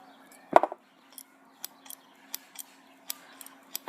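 Small scissors on a Victorinox Swiss Army pocket knife, one sharp clack as the tool is pulled open, then a series of light, crisp snips and ticks spaced out, close and quiet.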